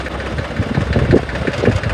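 Close, loud tractor engine running on a farm during manure hauling with a trolley, a low throbbing chug with uneven pulsing beats.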